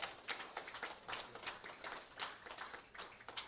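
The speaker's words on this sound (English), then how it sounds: "Give a round of applause as he walks through." Scattered, fairly soft clapping from a gathering at a weekly Sunday satsang at Maharishi Dayananda Gurukula, greeting someone walking through; the claps run unevenly throughout at moderate distance.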